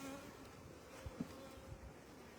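Honey bees buzzing at a hive during a package install, a faint steady hum with a few soft knocks, no voices.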